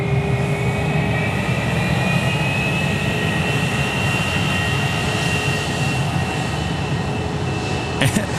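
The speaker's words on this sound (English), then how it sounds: "About to get photo-bombed by Jetstar 320 coming up here on taxiway Charlie" A Jetstar A320 airliner taxies at Sydney Airport, its engines giving a loud, steady whine and rumble that holds constant throughout, with no voices over it.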